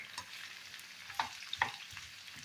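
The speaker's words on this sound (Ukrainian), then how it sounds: "Най воно смажиться." Pork ribs fry in a pan with a soft sizzle and a few sharp clinks of a utensil against the pan, quiet and close, no voices.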